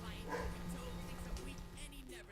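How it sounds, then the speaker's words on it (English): A dog barks upstairs in a house, muffled and distant yips and bow-wows under a person talking close to the microphone. "My dog is barking upstairs like crazy."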